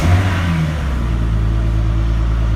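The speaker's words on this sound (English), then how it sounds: "So let me get the vehicle started" A car engine turns over and settles into a steady running drone, close and loud, with a low hum holding throughout and no talk.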